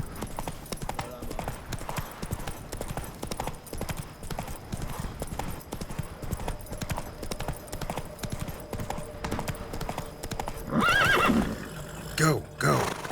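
Roach the horse in The Witcher 3 gallops with steady rapid clip-clop hoofbeats throughout, then lets out a loud neigh near the end, with a game voice briefly speaking over it.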